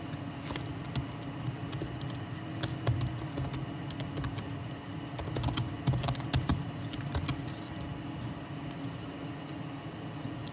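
Steady typing on a computer keyboard while entering data into a goods transport management system, with quick clustered key clicks running continuously at close range and no voices.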